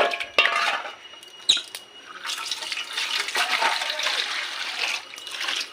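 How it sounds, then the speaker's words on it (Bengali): Goat meat being washed by hand in water in a home kitchen: splashing, swishing and trickling with a couple of sharp knocks, close and fairly loud. "ধুয়ে যাচ্ছে মাংসটা"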